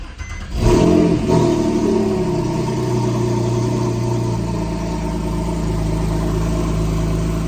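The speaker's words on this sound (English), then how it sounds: "Start the car up cold in the morning." A Porsche 911 engine starts cold on a snowy morning with a sharp crank and catch, then revs loudly and settles into a steady, rumbling high idle, heard close and alone.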